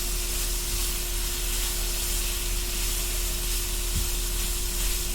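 Meat and potatoes, with ham, fry in a skillet for a quick breakfast, giving off a steady, dense sizzle and crackle that stays even throughout, with no voices.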